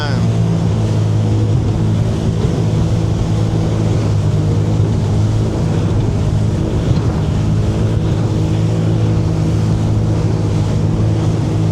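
A Sea-Doo personal watercraft runs steadily through choppy waves on Georgian Bay, its engine droning loud and constant with wind and water rushing over it.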